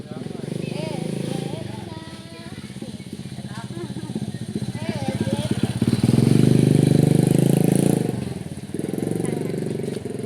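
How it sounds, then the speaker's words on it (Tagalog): A motorcycle engine rumbles past at close range, swelling louder midway before fading, with children and adults chattering throughout. "Jay, may motor Jay ah!"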